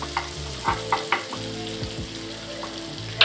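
Garlic and ginger frying in butter in a pan, a soft steady sizzle broken by a few light stirring scrapes and clicks, close and moderately quiet.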